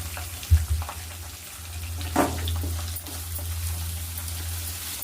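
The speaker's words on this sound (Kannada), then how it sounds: "ಈಗ ಈರುಳ್ಳಿ ಹಾಕ್ತೀನಿ. ಹಚ್ಚಿಟ್ಕೊಂಡಿರೋ ಈರುಳ್ಳಿ." Chopped onions hit hot oil in a pan with a sharp burst of sizzling around the two-second mark, over a steady low hum and faint stirring; no one speaks.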